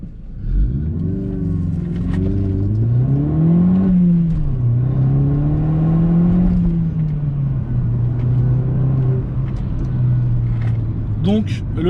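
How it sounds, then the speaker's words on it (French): An Opel Astra OPC with 180 hp makes an emergency stop on a straight road. A loud, close engine drone swells and dips over several seconds while people talk inside the car. "On va essayer de voir sur une ligne droite un freinage d'urgence."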